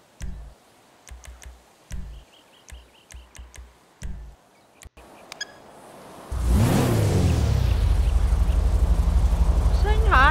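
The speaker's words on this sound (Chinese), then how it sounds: "发动之后还可以听到引擎的声音，似乎没有因为油电混合而转为纯电模式。" Clicks and short beeps lead into the Dinka Jester hybrid sports car's engine starting in GTA V, then a loud, steady idle rumble that holds to the end, close by.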